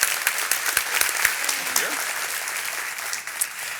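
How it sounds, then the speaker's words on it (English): A room full of people at a community breakfast event gives a sustained round of applause, crisp overlapping claps close by with faint voices mixed in. "a round of applause for all elected officials who are with us today"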